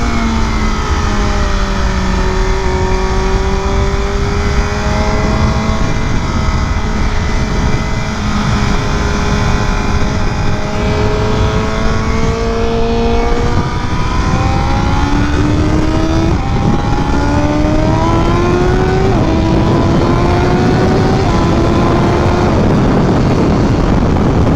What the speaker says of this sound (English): now with the velocity stacks, I should have like about 8 more horsepower, especially up top